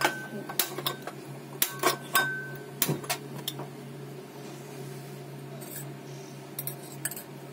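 A small metal cooking pot set down for tempering while making instant raw mango pickle, with a series of sharp metallic clinks and knocks spread irregularly over several seconds under a steady background hum.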